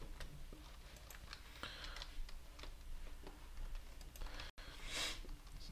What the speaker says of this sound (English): instead of typing it in my editor